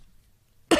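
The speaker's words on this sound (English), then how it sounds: "Excuse me for coughing in your ear." One short, sharp cough bursts out close to the microphone at the very end of a near-silent moment.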